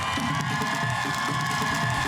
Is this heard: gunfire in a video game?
no